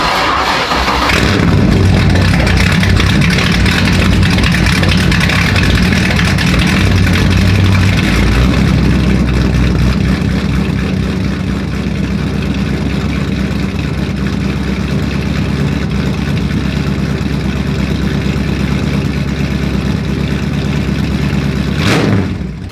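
An LT1 engine with a 24X conversion, in a Rocket Bunny Boss kit car, runs steadily after its first start: a loud, continuous idle rumble that holds for the whole stretch, with no talk.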